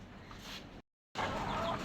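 Crested tiger-breed chickens cluck and murmur nearby, broken by a brief moment of total silence before the clucking resumes.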